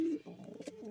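Pigeons cooing inside a small mini loft, one low throaty coo up close followed by soft fluttering and shuffling, brief and near.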